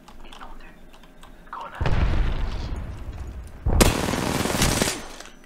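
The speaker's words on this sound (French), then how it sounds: "Grenade." A grenade blast in Apex Legends, a broad loud roar that bursts in partway through, followed by a second heavy explosion with gunfire crackle and a voice talking underneath.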